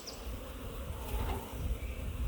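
Honeybees swarm around a queen bee box, giving a continuous close buzzing hum that wavers slightly in loudness over a couple of seconds, with no voices.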